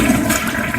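A toilet flushes, a septic system being treated, with a loud continuous rush of water close by.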